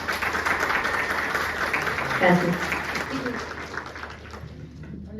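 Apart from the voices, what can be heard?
audience applause at a seminar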